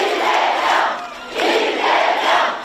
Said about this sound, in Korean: 이재명 전 지사가 인천 계양산 야외 공연장에 설치된 연단에 오르자 지지자들의 환호 속 꽃다발이 전해집니다.